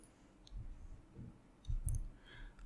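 A mouse clicks on a Windows 10 computer: a few quiet, sharp clicks spread over a couple of seconds, close to the microphone, with no talk over them.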